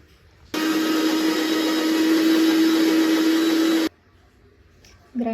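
A kitchen mixer grinder runs at full speed grinding spinach with a bowl of curd into paste, a loud steady high-pitched whine for about three seconds that stops abruptly, followed by a brief clatter.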